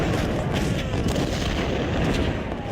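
Cannon fire rumbles in Ultimate General: Civil War, a dense, heavy booming barrage of overlapping artillery blasts, loud and continuous through the short stretch.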